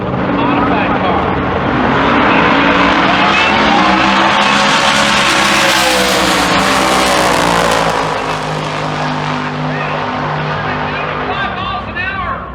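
A modified drag race car roars down the strip, a loud, sustained engine note rising and then dropping in pitch as it passes, with an announcer talking over it and crowd noise behind.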